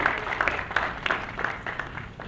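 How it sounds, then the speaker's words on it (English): A round of applause at a press conference on federal funding, with scattered claps from a modest crowd that are fairly near and taper off within a couple of seconds. "If I get a round of applause for all the folks that came here today, I appreciate that."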